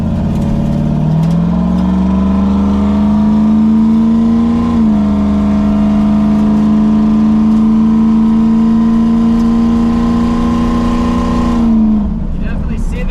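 A car engine revs hard on a test run after repair work, holding a loud, steady droning pitch for several seconds, climbing early on, then dropping away near the end.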